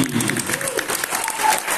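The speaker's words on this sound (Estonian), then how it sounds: "Ja nüüd üks suur aplaus meie algatajale" An audience at a beginners' dance competition claps steadily and densely, with a light crowd murmur and a voice speaking over the applause.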